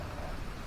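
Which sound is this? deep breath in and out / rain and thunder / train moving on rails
rain and thunder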